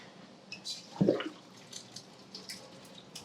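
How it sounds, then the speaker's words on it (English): Hot pasta water drains from a pot into a kitchen sink while fettuccine is being cooked, a soft splashing gush with a brief louder surge, then faint trickling and dripping, close and fairly quiet. "Put that back here while I kind of drain out the water"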